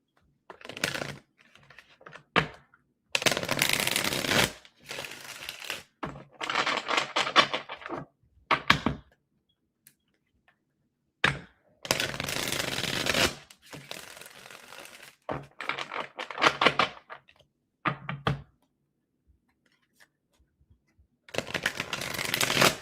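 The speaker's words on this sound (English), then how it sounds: "Two more shuffles for Cancer." Repeated bursts of cards being shuffled, brisk riffling rattles separated by short pauses of near silence, close and crisp.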